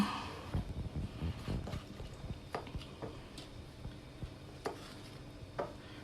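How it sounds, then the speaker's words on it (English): Naan dough being mixed in a bowl, soft irregular thuds and taps of the utensil against the bowl, close and fairly quiet, with no talking. "So I'm just going to mix this"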